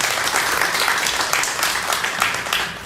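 Audience applause at a Georgia PTA campaign forum for school superintendent candidates, loud, dense clapping from a room full of people sustained throughout without a break.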